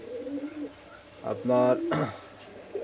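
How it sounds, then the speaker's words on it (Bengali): Pakistani high flyer teddy pigeons, a pair, give a short burst of cooing near the mic, sounding after a voice speaks briefly at the start. "লাস্ট ফিনিশিং এই যে দুইটা পেয়ার কবুতর আমি দেখাচ্ছি"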